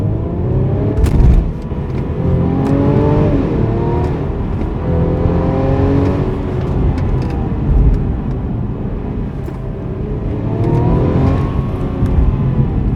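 A 2021 Mercedes E350 4Matic AMG Line engine accelerates hard under paddle shifting, its loud droning note climbing in pitch repeatedly with gear changes while the car runs along the road.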